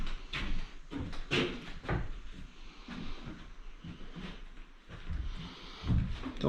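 The wooden front door of an old cabin along the Roaring Fork Motor Nature Trail in Gatlinburg, Tennessee gives several knocks and thuds, with creaks spread over a few seconds at moderate level.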